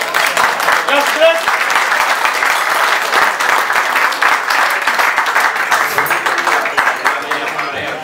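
An audience at a Cretan music venue applauds a Cretan lyra player, a dense, loud, sustained wash of clapping that fills the room and only slowly thins toward the end.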